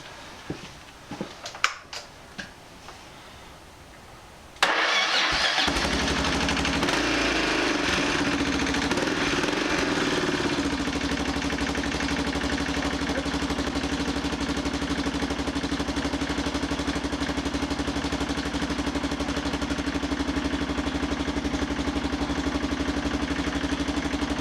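After a few clanks and fumbling noises, a motorcycle engine being prepared for its MoT test starts abruptly, revs briefly, then settles into a loud, steady, close-up idle that runs unbroken to the end.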